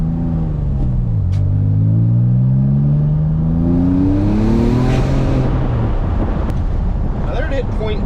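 A high-mileage Porsche 996 Turbo with a suspected overboost fault accelerates hard under boost; its engine note climbs steadily in pitch, loud and close, with a brief dip and then rising again before fading into road rumble.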